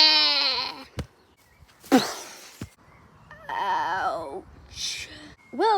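Sheep bleat on a nature walk: several wavering, harmonic bleats sound close and loud, separated by a few short clicks and thumps, without speech over them.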